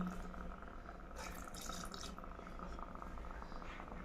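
Heated milk poured into a cooking pot of jaggery rice, making a steady, close liquid splashing and trickling that runs the whole time over a low background hum, with a brief brighter splash burst partway through.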